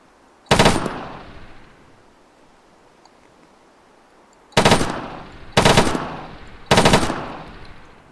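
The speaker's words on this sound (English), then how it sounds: "the LMG starts on single fire instead of automatic fire" An LMG firing in ArmA 3, four sharp loud single shots with long decaying echoes, one early, then three in quick succession after a pause.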